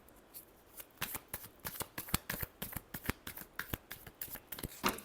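Tarot cards shuffled by hand close up, a rapid run of crisp riffling slaps and flicks in uneven bursts, loud and alone with no talking.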